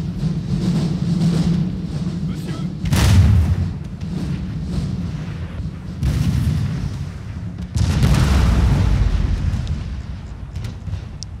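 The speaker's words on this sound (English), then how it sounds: "Watch my next artillery barrage here" Artillery barrage in a video game battle between France and the Ottoman Empire at Damascus, with repeated heavy booming volleys rolling in waves over a constant low rumble, loud and with no voices.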